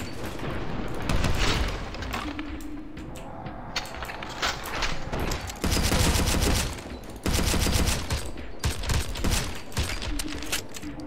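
Sustained gunfire from the Maximum Action video game, with rapid automatic bursts and repeated loud shots packed closely together across the whole stretch, plus booming impacts and mechanical clatter, loud and close with no talking.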